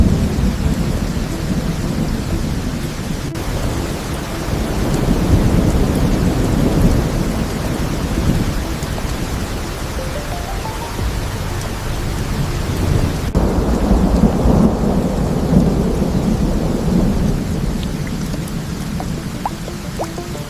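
Heavy rainstorm with rolling thunder over a rainforest setting, steady dense downpour throughout with loud low rumbles building and fading, no voices.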